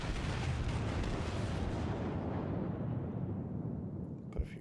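Heavy warship guns firing in the World of Warships naval game, a loud sustained roaring blast that fills the clip and slowly fades, with a small thud near the end.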